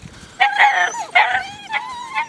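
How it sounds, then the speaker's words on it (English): Puppies outside on a very windy day give high yips and whimpering howls in three or four close, loud bursts, with no talk. "there's the other 6 puppies."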